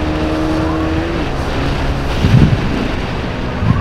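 A Honda Winner X 150 motorcycle engine running steadily while riding, a continuous mid-pitched drone mixed with strong wind rush across the microphone, no talk.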